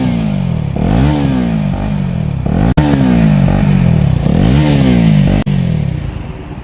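Husqvarna Vitpilen 250 motorcycle fitted with a slip-on exhaust, revved repeatedly while standing, with the engine note rising and falling in several loud blips over a steady idle.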